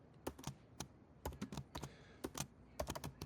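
Quick bursts of keystrokes on a computer keyboard, crisp close clicks in uneven clusters with short pauses between, quiet and alone.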